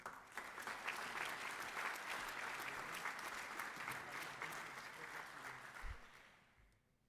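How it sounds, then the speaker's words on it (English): Sustained audience applause at an armed services ceremony honoring graduating seniors entering the military, a dense steady clapping that fills the room for about six seconds before tapering off. "let us have one more round of applause for our graduating seniors and future servicemen and women"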